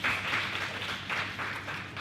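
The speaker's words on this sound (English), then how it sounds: "Can we give B a loud applause?" Audience at a talk giving loud applause, a dense, steady wash of many hands clapping for the full two seconds, fairly close and even.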